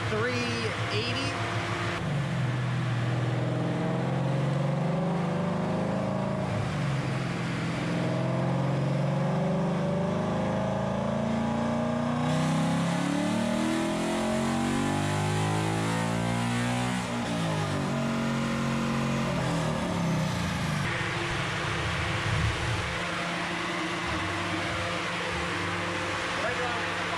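A 2020 Chevrolet Corvette C8 engine revs on a dyno in fourth gear, a loud sustained roar sweeping upward in pitch, then dropping off, with people talking over it.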